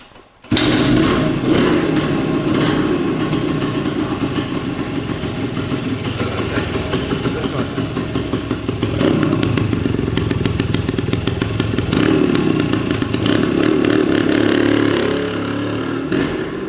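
A 1971 Yamaha DT1 two-stroke motorcycle engine starts abruptly and runs steadily nearby, a loud continuous buzzing idle with rapid rhythmic pulsing and slight revving swells, heard alone without speech.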